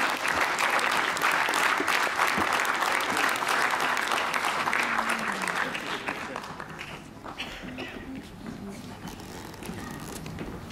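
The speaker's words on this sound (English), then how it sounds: "Please, a big round of applause to all our judges." Audience applause for a panel of judges at a club awards event, a dense wash of many hands clapping that holds steady and loud before gradually thinning and fading toward the end.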